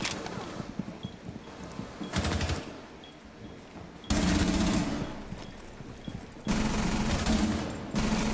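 Rainbow Six Siege gunfire: repeated loud automatic bursts, one short volley early and then two long sustained bursts later, standing out over a constant game background.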